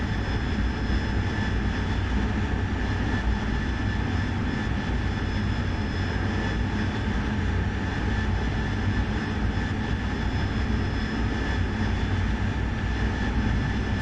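Jet aircraft engine throttling up during a night strike mission in the DCS World flight simulator, a continuous loud low roar and whine holding steady throughout with no talking.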